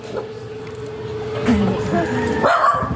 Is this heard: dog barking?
yes